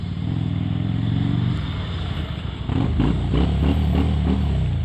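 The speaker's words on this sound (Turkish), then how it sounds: "Yani motorun sesi cidden çok güzel." A Mondial Nevada 250 motorcycle engine idles with a steady low rumble in city traffic, then revs up and rises in pitch, loud and close, with no talking.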